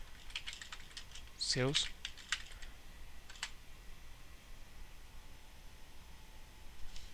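A few soft keystroke clicks on a computer keyboard while Linux commands are typed, faint and close, scattered over several seconds, with a voice speaking briefly partway through.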